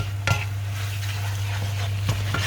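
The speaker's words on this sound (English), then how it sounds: "Then you just stir fry." Thai flat noodles with dark soy sauce being stir-fried for Pad See Ew: a few sharp spatula scrapes over a constant sizzle and a low steady hum, with no talking.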